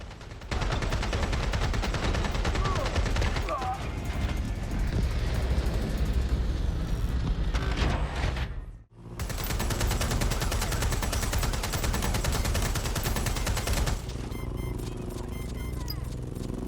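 Sustained, dense automatic gunfire from enemy machine guns in Watch Dogs Legion, loud and continuous, cutting out briefly midway before resuming, then thinning toward the end.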